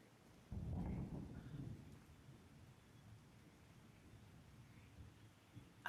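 A thunderstorm with a deep rumble of thunder rolling in near the start, fading into a steady hiss of rain.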